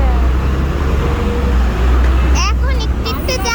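Jammed traffic on the Dhaka–Tangail highway near the Jamuna Bridge toll: a constant low engine rumble and road noise, with a horn honking repeatedly toward the end.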